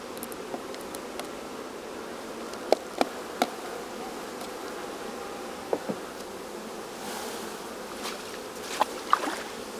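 Honeybees buzz faintly around a hive box being set up, a thin continuous hum in the background punctuated by scattered small clicks and taps nearby.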